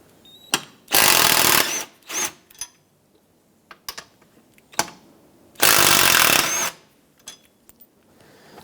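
A power tool spins out 10mm bolts holding the seat cushion to the seat rails of a 2008-2010 Ford F-450 Super Duty, with two long, loud whirring bursts and scattered clicks and clanks between them.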